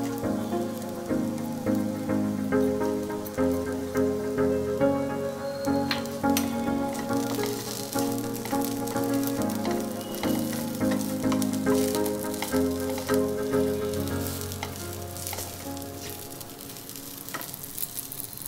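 Okra frying in a pan with stuffed masala powder, a steady, loud sizzle and crackle that runs unbroken throughout with no talking.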